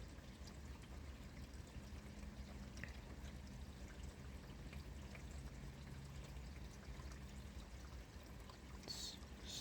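Steady rain runs off a roof into a gutter and drainpipe, a continuous pouring and trickling wash of water that stays fairly faint and even throughout with no voices.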